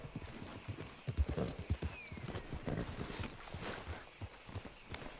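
A horse's hooves clip-clop in the game Red Dead Redemption, a steady rhythmic walking beat of close, fairly quiet hoof strikes, with a faint whinny-like tone partway through and no talking.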